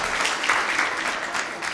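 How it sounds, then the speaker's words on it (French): An audience applauds students at a school quiz competition, with steady, dense clapping that holds throughout. "il faut les applaudir aussi"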